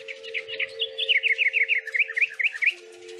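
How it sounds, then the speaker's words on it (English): A little bird sings near a window, a quick run of bright chirps and twitters repeated in close succession over a faint, steady hum. "A little bird is singing near his window."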